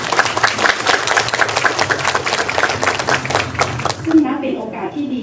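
An audience at the MEGA 2015 award and royal trophy ceremony claps to welcome a guest, a dense burst of applause lasting about four seconds before fading as a voice begins speaking.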